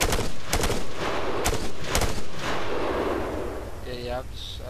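Bursts of rapid gunfire in Arma 3, several sharp loud volleys in the first two seconds fading into rolling echoes, with a voice speaking briefly near the end.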